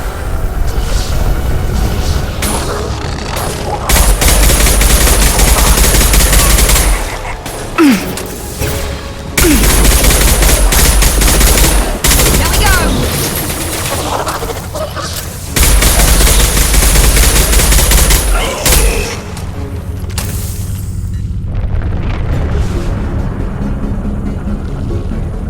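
Heavy high-impact gunfire in Mass Effect erupts in loud sustained bursts, broken by short pauses and booming impacts, with little talk.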